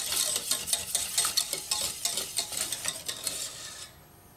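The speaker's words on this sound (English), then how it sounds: "I now whisk in some simmering milk until it's smooth and silky." Milk at a simmer being whisked briskly into mashed potato, a steady run of quick wet strokes against the bowl, close and fairly loud, stopping abruptly near the end with no talking.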